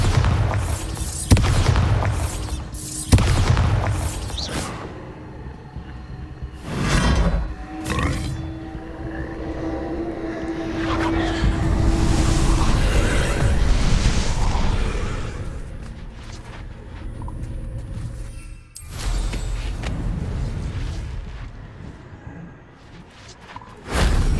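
Repulsor and Bombarda spell blasts from the video game Hogwarts Legacy, a run of heavy booming impacts and whooshes, loud and close, with rumbling low-end bursts and swells scattered through the whole stretch.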